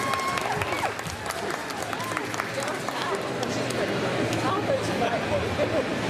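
Sustained applause from a crowd at a comic con cosplay Q&A fills the scene, a dense steady clapping with scattered voices and chatter mixed in.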